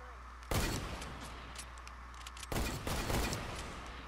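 Two bursts of sniper gunfire in a video game, loud sharp cracks with rolling echoes, heard over steady game background noise.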